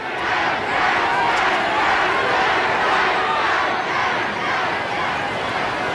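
A large football stadium crowd roars and chants together, a dense sustained wall of many voices that swells slightly and stays loud throughout, with no single speaker standing out.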